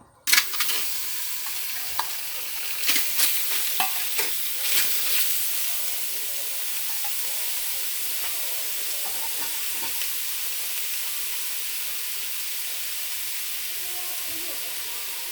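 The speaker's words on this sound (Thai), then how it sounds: "ตอนแรกเราก็คั่วหมูก่อนพี่น้อง" Pork stir-frying in a pan, a steady loud sizzle and hiss running throughout, with clattering stirring scrapes and knocks clustered in the first few seconds.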